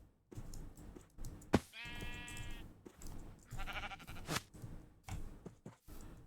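Sheep in the Minecraft video game give several short synthetic bleats, one after another, at moderate loudness among other game sounds and with no talking.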